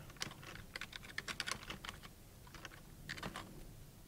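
Rapid typing on a computer keyboard, with bursts of close, crisp key clicks in an uneven rhythm, pausing briefly midway before another short flurry.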